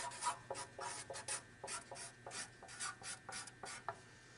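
Pen or marker strokes scratching a name onto a wooden chest back panel, a quick series of short rasping scrapes in an irregular rhythm, close and fairly quiet, with no voices.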